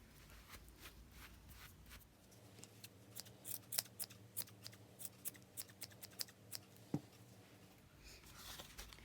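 Scissors snip repeatedly at a yarn pom-pom made on a three-inch cardboard form, a series of crisp, close cuts in an irregular rhythm, quiet and alone.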